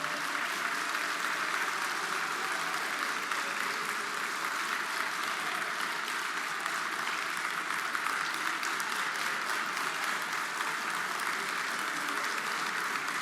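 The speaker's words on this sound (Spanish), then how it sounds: "no aplaudan tanto" An audience in the Chamber of Deputies applauds steadily, a dense, continuous clatter of many hands clapping at even loudness throughout, with no talk over it.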